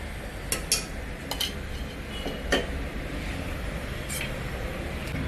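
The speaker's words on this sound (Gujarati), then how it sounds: "બધું બરાબર મિક્સિંગ કરી લેશું।" A spoon stirs dal with turmeric and half a spoon of ghee in a cooking pot, giving a few sharp scrapes and clinks against the metal over a steady broadband background.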